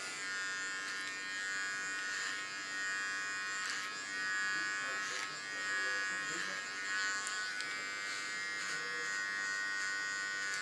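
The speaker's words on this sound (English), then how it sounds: "The underline I do with my small clipper." Small electric hair clipper trimming short hair, a steady high buzz running throughout with slight pitch shifts as it moves across the head.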